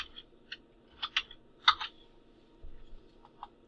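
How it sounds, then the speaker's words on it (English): Sparse clicks of typing on a computer keyboard, a few close, light keystrokes spread irregularly over a low steady hum. "I prefer to type it in, it's faster."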